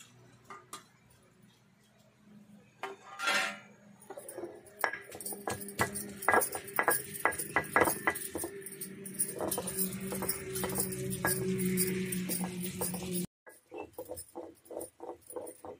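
Green masala paste being ground by hand on a traditional flat grinding stone with a roller, producing repeated scraping, knocking and gritty rubbing strokes in a steady rhythm, close and fairly loud, with no talking.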